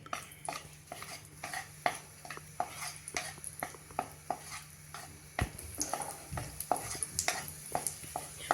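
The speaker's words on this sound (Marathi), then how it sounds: "त्याच तुपामध्ये आड्डा बेदाणे पण घालते" Raisins frying in ghee, a soft sizzle under repeated sharp scrapes and taps of a spoon against the pan, irregular and fairly quiet, with no talking.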